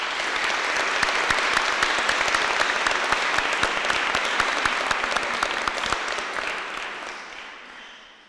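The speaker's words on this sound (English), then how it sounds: "Everyone, please join me in giving these amazing graduates a round of applause." A graduation ceremony audience applauds the graduates with sustained, dense clapping from many people, steady and fairly loud for about six seconds before fading gradually away.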